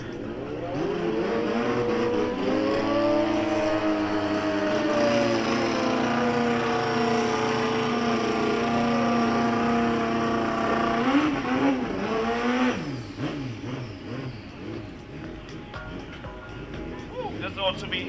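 Drag-racing motorcycles, a Suzuki against a BMW RR at the SA Drag Nationals at Midvaal, roar loudly with sustained high-revving engine whine that rises in pitch, then cuts off into a rougher, fading rumble near the end, with a commentator talking over it.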